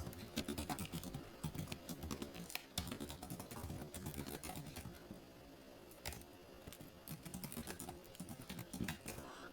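Data entry on a computer keyboard produces rapid, irregular key clicks in close bursts, with a brief lull midway before the typing picks up again; quiet and dry, with no voices.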